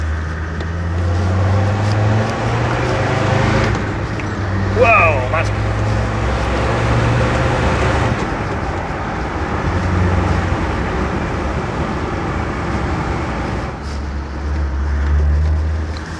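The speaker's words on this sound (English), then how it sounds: "it takes off in a rather noisy fashion and then ducks and dives all over the place" A restored Land Rover Defender pulls away under acceleration on a test drive, its engine droning and rising inside the cabin, loud and close, while someone talks over it.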